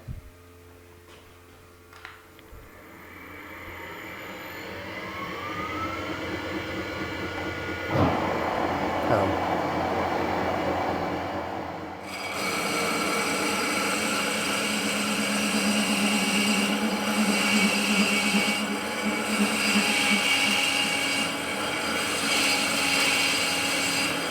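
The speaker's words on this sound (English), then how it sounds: "I'm just going to see if I can machine through with the point of the tool there" A machine tool's point cuts through metal, a steady loud grinding hum that shifts and grows harsher partway through and continues under occasional talk.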